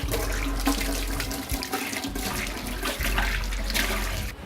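A kitchen tap runs steadily and loudly while dishes are washed, with water splashing and a constant rushing flow throughout and no pauses.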